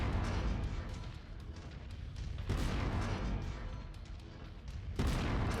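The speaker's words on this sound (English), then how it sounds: "Bubsby, why'd you have to walk in front of my cannon shots?" Cannon fire in a mech combat video game: heavy booming shots land at intervals, each a broad burst over a continuous rumbling background, fairly faint overall.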